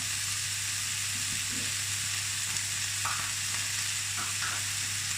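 Vegetables with frozen peas, dried cumin and coriander sizzle steadily in a frying pan during sweet potato and pepper frittata prep, with a constant hiss and a few soft scraping stirs, all heard close up.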